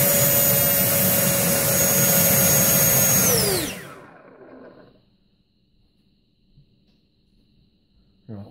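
Electric ducted fan motor of a model F4 Phantom jet at a throttle burst, a loud high whining roar that holds steady for several seconds, then spins down sharply and fades into near silence.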